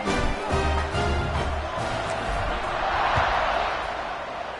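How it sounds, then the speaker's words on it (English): American football stadium crowd buzzing after a score, a broad sustained roar of many voices with a few thuds early on, swelling slightly midway before easing off. "this crowd is buzzing after that last score"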